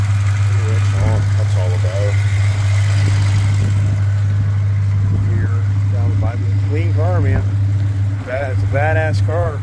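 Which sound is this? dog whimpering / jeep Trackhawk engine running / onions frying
jeep Trackhawk engine running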